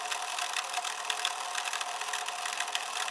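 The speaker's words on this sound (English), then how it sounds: "Now this is being ran on my daughter's ECX Smash with a Firebolt" An ECX Smash RC car with a Firebolt motor runs with a high, buzzing electric whine that holds steady and close, with rapid fluttering pulses and no voices.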